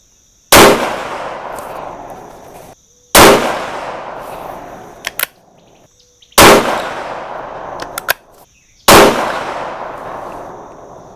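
Four loud, sharp .308 rifle shots firing 168 grain Speer Gold Dot bullets over IMR 4064 powder, each followed by a long reverberant decay outdoors, spaced a few seconds apart with no talk.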